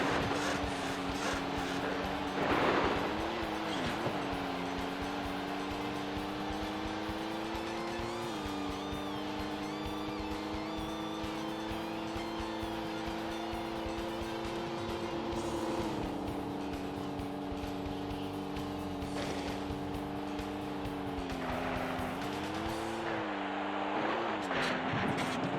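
Rallycross race cars in a video game, a steady loud engine drone that holds for a long stretch, with the pitch dropping and climbing at gear shifts and occasional rough surges.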